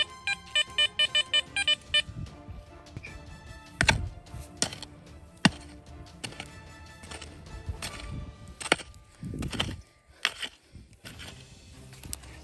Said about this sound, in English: Metal detector picking up signals too close.